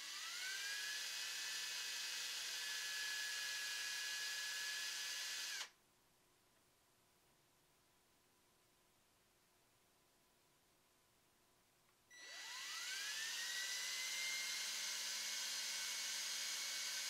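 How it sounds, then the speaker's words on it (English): A small power drill bores eye sockets into an MDF crankbait lure, whining at high speed in two loud runs separated by a quiet pause, spinning down and back up each time. "I'm going to drill the eye sockets for the lure."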